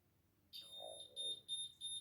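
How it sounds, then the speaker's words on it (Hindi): Electronic diamond tester giving a run of bright, high beeps as its probe touches a diamond set in a 14k gold ring, with a steady tone and short repeated pulses, fairly quiet overall. "आप देख रहे हैं इसकी बीप की आवाज़, इट मीन्स इसकी हार्डनेस इज 10।"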